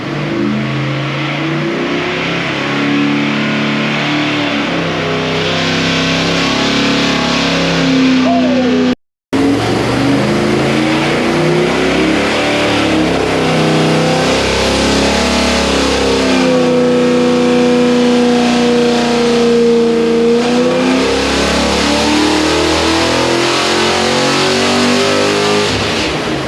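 A carbureted V8 roars on a dyno during a carburetor comparison between an Edelbrock 750 cfm and a race-prepped 800 cfm Quadrajet, revving loud and sustained with rising and falling pitch and a brief cut near the middle.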